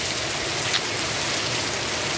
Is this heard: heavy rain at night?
yes